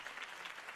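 Crowd applause from the video game Batman: The Telltale Series, a steady wash of clapping from an audience after a campaign speech, sustained evenly throughout the short moment with no talk over it.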